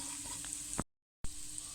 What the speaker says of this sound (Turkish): Şimdi 1 yemek kaşığı salça koyalım. Birkaç dakika kavuralım.